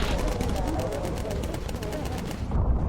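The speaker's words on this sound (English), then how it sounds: "Cupcake, focus fire with incendiary" Bomber gunners in the Bomber Crew video game fire incendiary rounds in a loud, continuous rapid clatter of machine-gun fire. The burst holds steady for almost three seconds with an engine-like rumble underneath, and there is no talk.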